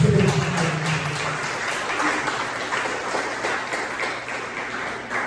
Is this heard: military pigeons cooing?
no